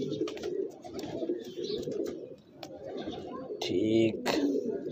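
A pigeon keeper's flock cooing in soft, low murmurs beneath steady conversation between men, with occasional louder bursts near the end.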